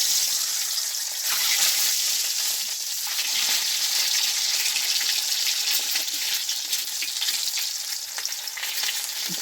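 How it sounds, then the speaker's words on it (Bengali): Eggs frying in a well-used kadai over a village stove, with salt and turmeric added, giving a steady loud sizzle and crackle throughout, with occasional stirring. "তো চলো ডিম কটা আগে ভাজি"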